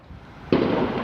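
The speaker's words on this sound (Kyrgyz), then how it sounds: "Бүгүн таңгамал Сент-Денисте кайрадан ок атышуу болду." A single sharp blast during an armed police raid in Saint-Denis, leaving a sustained loud rumbling wash afterward.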